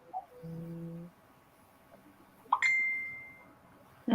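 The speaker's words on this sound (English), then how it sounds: "Let your phone ding, ding, ding." Phone notification dings in a quiet room, with a soft chime at the start, a brighter high ding near the middle that rings out and decays, and another clipped at the end. No one talks.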